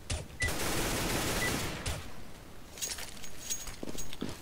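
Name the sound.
pistol round gunfire in the video game CS:GO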